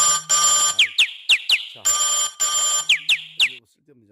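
A phone rings in repeated short electronic trilling bursts, fairly loud and close, with a voice speaking between the rings.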